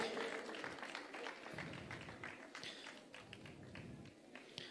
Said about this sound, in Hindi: जोरदार तालियों से उनकी भावनाओं का हम सभी लोग अभिनंदन करें